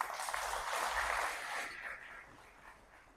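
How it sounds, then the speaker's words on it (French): Audience at a literary award ceremony in Guinea, the Grand Prix littéraire in a national language, applauds in a dense, steady wash of clapping that thins and fades after a second and a half, heard from some distance. "je vous demande d'applaudir s'il vous plaît"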